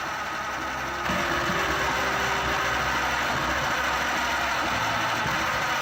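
An old Caterpillar V8 engine, previously abandoned, runs steadily just after its first start. The idle is a continuous, dense mechanical rumble with a slight step up in level about a second in, heard alone without any voices.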